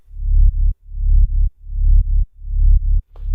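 Deep synth bass in an electronic track, four repeating swelling notes, each rising in loudness and cut off sharply, with a brief higher click at the end.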